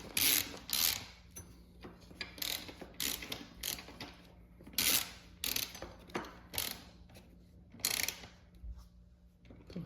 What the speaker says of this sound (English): I'm going to snug it up until we can center the mount.